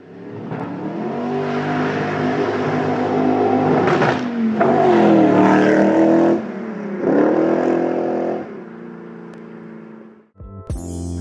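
A kit car replica engine idles loudly up close, then revs up in surges that rise and fall before cutting off abruptly at the end.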